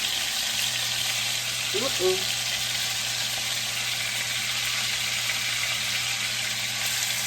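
Lamb chops fry over high heat in vegetable oil in a pan, giving a steady, dense sizzle that hisses without pause, with a brief murmur of a voice near the middle.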